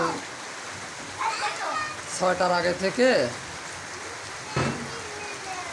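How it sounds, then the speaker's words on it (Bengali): Steady rain falling with a soft hiss throughout, while a person talks briefly over it. "আল্লাহর রহমতে বৃষ্টি হচ্ছে।"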